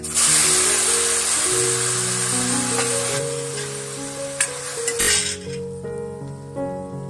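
Tomatoes go into a hot pan of ghevda (flat bean) bhaji seasoned with asafoetida, turmeric and chilli powder, giving a loud, steady sizzle and hiss with a few clinks of a spoon against the pan.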